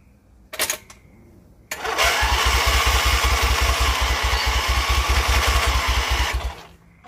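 A hot rod tractor engine fitted with a new belt starts after a couple of short sputters, then runs at a steady, rapid chugging idle for several seconds, loud and close, before shutting off.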